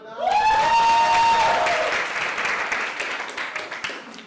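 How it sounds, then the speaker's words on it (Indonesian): Classroom applause from a group of students, a burst of clapping that starts loud and gradually thins out over a few seconds, with a brief whistle-like tone near the start. "Beri tepuk tangan."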